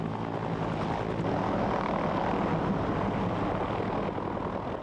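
Cobra attack helicopter of the army aviation command, flying with a steady, dense rotor and engine roar at moderate distance, unbroken and without voices.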